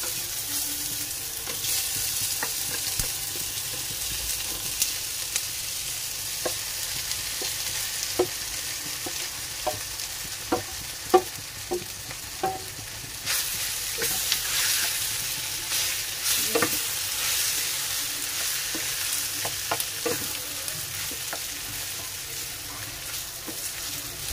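Potatoes fry in a pan with a steady, bright sizzle that carries on throughout, broken by scattered clinks and scrapes of stirring.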